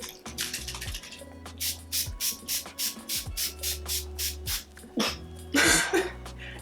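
Makeup setting spray is pumped onto a face in a quick series of about a dozen short, crisp spritzes, close and clear, with a longer hissing burst near the end.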